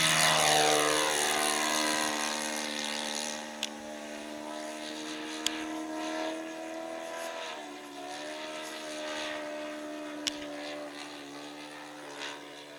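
RC model airplane propeller engine at takeoff from long grass: a buzzing, whining motor note sweeps upward and then holds steady, moderately loud and continuous, with a few faint clicks.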